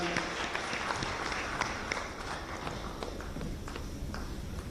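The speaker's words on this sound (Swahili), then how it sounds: "Makofi mengi kwa mzee wetu Rais mstaafu Joakim Chissano" Audience applause fills a hall at a commemorative symposium for the late third-phase president Mkapa, following a former president's speech: a steady, dense patter of clapping at even loudness throughout, with no break.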